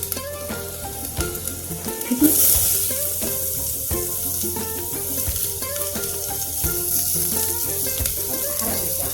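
Garlic fries in a spiced paste with asafoetida in a pan, a loud, steady close sizzle with bursts of crackle and a brief stirring clatter, while someone speaks briefly over it.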